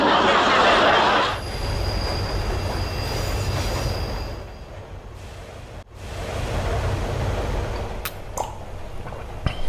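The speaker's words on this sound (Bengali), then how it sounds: "সামনে ট্রেন টানেলে ঢুকবে" Train rumbling along the rails, with a loud rush of noise at the start that drops to a steady hollow rolling rumble, brief wheel squeals and clatters near the end.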